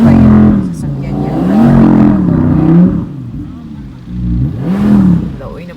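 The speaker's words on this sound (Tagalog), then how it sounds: "Narinig ba yung sasakyan niyo?" A car engine revs in rising and falling surges close by, its loud drone swelling and easing several times while people talk over it.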